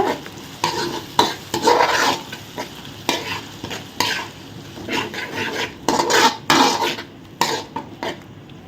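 Ground ginger, garlic and tomato paste stir-fried in a pan for a crab pepper-cumin gravy, with a steady loud sizzle broken by repeated scraping strokes of a spoon against the pan, no voices.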